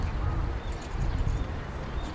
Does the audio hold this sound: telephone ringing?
no